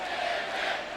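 Wrestling crowd roaring and cheering for Billy Kidman during his match against Tajiri, a dense, steady wall of noise from a large arena audience, loud and continuous with no clear breaks.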